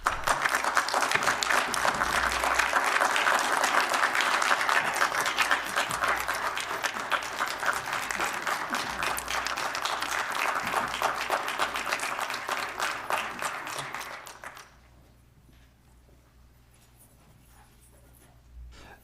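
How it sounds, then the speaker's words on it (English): A small audience at a county Levy Court meeting claps steadily for about fourteen seconds before the applause fades out, leaving a quiet room. "we'd like to give you a round of applause."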